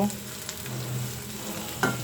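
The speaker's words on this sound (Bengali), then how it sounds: "পেঁয়াজ কাঁচা ঝাল রসুনটা আমি তেলের উপর ভেজে নিচ্ছি" Onion, green chili and garlic sizzle steadily in hot oil in a pan for a vegetarian greens dish, with a few soft stirring knocks over the constant frying hiss.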